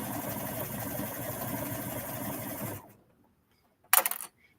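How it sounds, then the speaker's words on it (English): Sewing machine stitching stretchy swimsuit fabric around a leg opening, a steady close mechanical whir running for nearly three seconds before stopping, followed by a brief louder clatter near the end. "Keep the fabric flat and stitching all the way around the leg opening."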